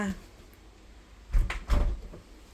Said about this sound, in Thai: เปิดประตูเข้ามา